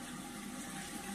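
Water running steadily from a tap during face washing, a constant broad rushing hiss that fills the whole short moment without pause.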